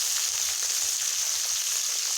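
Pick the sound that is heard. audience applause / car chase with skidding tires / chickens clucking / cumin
cumin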